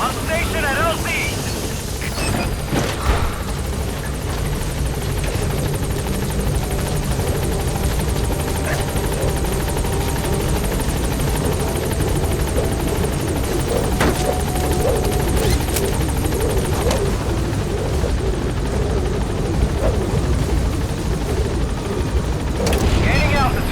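The Pequod helicopter arrives at a landing zone in the video game Metal Gear Solid V: The Phantom Pain. A loud, continuous rotor roar and engine drone fill the whole stretch, with radio-style voices speaking over it.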